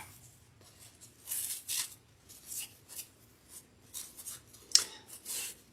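Scissors snip through ribbon being cut for Christmas bows, a run of crisp separate cuts and rustles, fairly close, with no talking.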